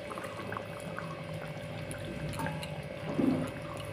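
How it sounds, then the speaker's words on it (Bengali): Bengali fish curry broth with potato and drumstick at a rolling boil in a pot, giving a quiet, steady bubbling with a slightly louder gurgle near the end. "ঝোলটা টকবক করে ফুটে গেছে একদম, এখন মাছগুলো দিয়ে দিলাম"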